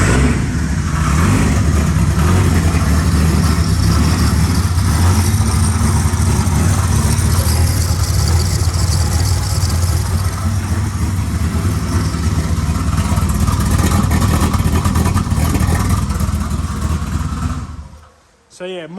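A turbocharged EF Ford Falcon engine runs with no exhaust fitted, producing a loud, raw, continuous roar with rapid pulsing for about seventeen seconds before cutting off abruptly.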